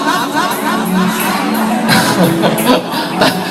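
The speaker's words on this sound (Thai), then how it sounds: "ตอนนี้มีโวยวายนะครับ" A crowd of children shouts and cheers with excited whoops rising over a steady roar, fairly loud and close, with a few sharp bursts and bangs toward the end.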